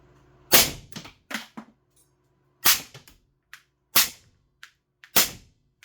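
Four suppressed rifle shots from a Galil ACE Gen 2 with a YHM R2 suppressor, each a sharp muffled crack followed by a quick mechanical clack, spaced about a second or more apart with quiet between.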